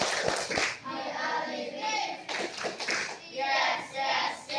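A sixth-grade primary school class claps in short rhythmic bursts as part of a chanted clapping game, with children's voices chanting between and over the claps.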